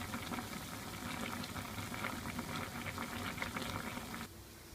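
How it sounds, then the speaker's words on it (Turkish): Vigorous bubbling and gurgling of unripe figs boiling in a pot for jam, steady and close, easing slightly at the very end. "Ve 15 dakika kaynatacağım."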